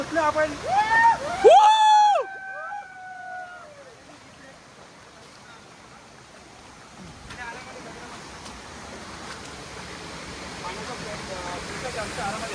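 A waterfall at Pali gives off a steady, moderate rush of splashing water, preceded by a brief burst of loud voices at the very start.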